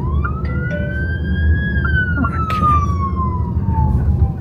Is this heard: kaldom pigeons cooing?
no